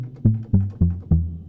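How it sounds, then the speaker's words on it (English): A sampler's step sequencer plays back a single note as four evenly spaced synth hits with a low tonal body, each decaying before the next, loud and alone. "I hold the key and it plays back the step sequencer"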